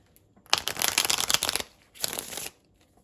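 Oracle cards are shuffled in two quick bursts, a longer riffle followed by a shorter one, close and crisp against quiet.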